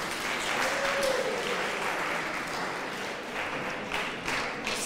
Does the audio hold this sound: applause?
yes